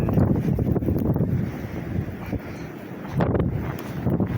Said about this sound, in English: It's so windy. It's very windy out here.